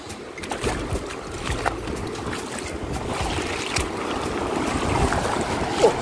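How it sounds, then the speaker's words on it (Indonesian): Steady rushing and sloshing of agitated water with waves washing continuously, fairly loud and close, with no voices present. "Ombaknya gede banget teman-teman."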